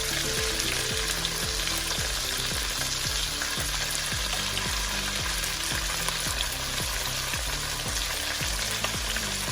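Chicken pieces frying in a pan for Filipino pininyahang manok, a steady loud sizzle with stirring and scraping throughout, no talk.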